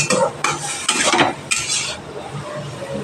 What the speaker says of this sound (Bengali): মশলা যাতে পুড়ে না যায় তার জন্য অল্প পরিমাণ জল দিয়ে সবজির সাথে কষিয়ে নেব